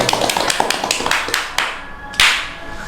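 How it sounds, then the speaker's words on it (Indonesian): Hands clapping at the opening of a futsal podcast, a quick run of close, sharp claps that thin out into a few scattered slaps and a final louder clap. "Tepuk tangan dulu ya."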